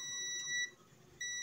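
A multimeter's continuity buzzer beeps steadily as its probes touch while an LED bulb is being repaired, a thin high-pitched tone that drops out briefly and then resumes.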